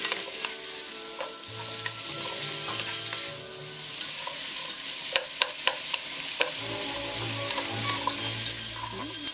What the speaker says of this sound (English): I'm going to let all this fry up until the garlic gets a little bit brown